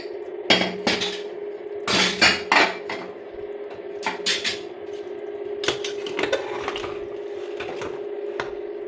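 A pressure cooker lid being opened after a mutton curry has cooked: sharp metallic clanks and scrapes come in irregular bursts over a steady low hum, close and fairly loud.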